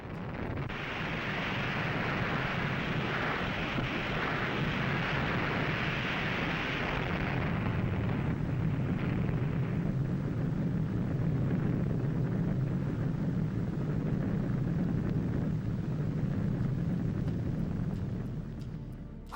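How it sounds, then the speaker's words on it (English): A thermonuclear bomb test explosion gives a sustained, roaring blast of broadband noise that shifts into a deep, heavy rumble and holds steady for nearly twenty seconds before easing off. "the explosion of the bomb was overwhelming and resulted in a large red light illuminating the entire sky"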